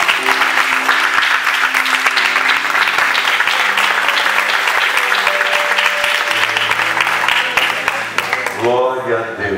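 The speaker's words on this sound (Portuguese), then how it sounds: "Un fuerte aplauso, iglesia." A church congregation applauds loudly with dense, sustained clapping that fills the room. Organ or keyboard chords are held underneath, and a voice rises briefly near the end as the clapping dies down.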